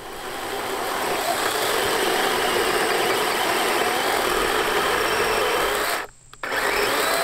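A DeWalt 20V cordless chainsaw cuts through a dry log with a steady, loud whine and a gritty rasp. Near the end the cut stops abruptly and the saw spins freely for a moment before resuming.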